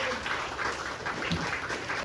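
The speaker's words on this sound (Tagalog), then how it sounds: "isa pang palakpak sa Panginoon" A church congregation breaks into brief, dense applause, steady clapping that fills the short stretch without any talk.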